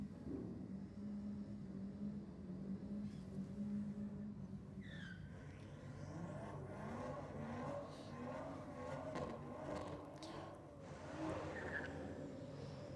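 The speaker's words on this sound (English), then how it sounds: "not a bad front wheel drive, single wheel burnout there from the little Toyota Starlet" A little front-wheel-drive Toyota Starlet doing a single-wheel burnout at a drag strip, its engine droning and revving in rising sweeps with hissing tire noise, moderately distant and sustained.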